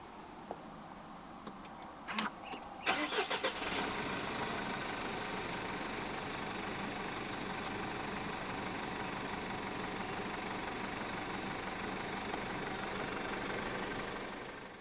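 A 2025 Mitsubishi Triton 2.4 4WD Athlete double-cab pickup starts with a brief whirring crank and a few sharp ticks, then settles into a steady, even idle that runs unbroken and fairly quiet to the end.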